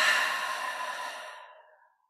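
A single close, audible exhale through the nose during a guided breathing exercise, a soft breathy rush that starts full and trails away into silence over about two seconds.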